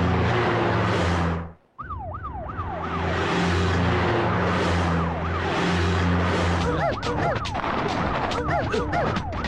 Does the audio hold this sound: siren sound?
yes